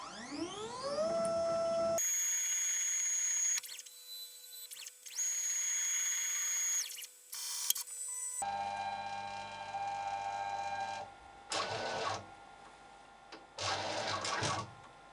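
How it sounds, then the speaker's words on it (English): CNC lathe referencing its axes, giving several stretches of steady whining motor tones that rise and fall in pitch and then give way to louder buzzing mechanical runs with short pauses, close and with no talk. "So we press the reference X set button to reference the lathe."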